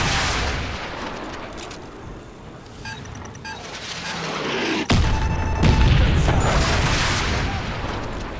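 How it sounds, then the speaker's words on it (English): Javelin guided rockets launch and detonate in Call of Duty, with a rumbling roar of fire and a sudden heavy blast near the five-second mark followed by sustained booming battle noise. "The Javelin fires guided rockets that fly straight up into the air and then come down on top of the less armored parts of vehicles"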